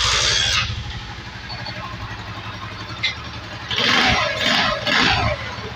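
A motorcycle engine idles steadily up close, with a couple of louder bursts as the throttle is blipped near the end.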